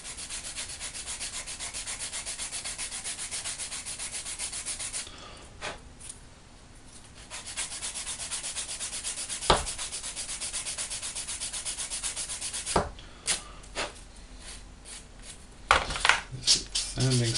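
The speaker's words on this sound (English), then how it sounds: "taking a coarse sanding stick as we got here" Steady rubbing, scratching strokes of a coarse sanding stick on resin on a 1/48 scale Italeri Chinook model, close up, pausing briefly before resuming, with a few sharp clicks and knocks near the end.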